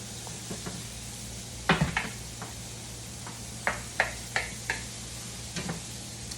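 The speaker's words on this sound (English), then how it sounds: "I put that butter right in the center, let it melt" Butter melts and sizzles in a pan with ground beef for a NOLA-style rice dish; a soft, steady hiss runs underneath while sharp utensil clicks and taps land irregularly.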